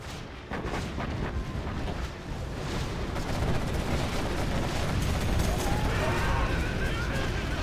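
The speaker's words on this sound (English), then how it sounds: "Got artillery coming in from BoYcaH." Artillery shells and gunfire in a real-time strategy video game battle, a rumbling dense barrage of distant blasts and crackling shots building steadily in loudness, with talk faintly underneath.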